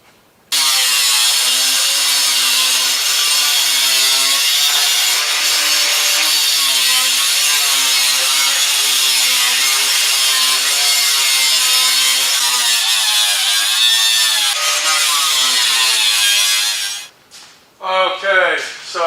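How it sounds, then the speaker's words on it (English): A cutting tool slices the rusted lip off a Chevy Chevelle body panel, a loud, continuous rasping cut close up that holds for about sixteen seconds before stopping, followed by a few brief clunks. "I got to cut this lip off right here, and I'm going to go all the way down."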